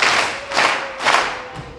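Three bursts of congregational clapping at a Lutheran church service, each swelling and fading in turn, with no voices.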